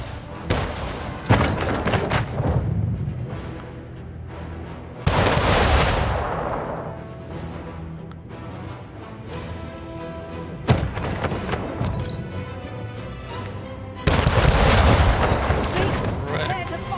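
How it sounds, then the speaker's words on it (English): Ships fire cannons in a naval battle in Anno 1800, with several loud booming volleys spaced a few seconds apart over a sustained low rumble of battle and music. "Ship under attack."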